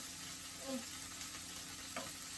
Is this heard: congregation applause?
no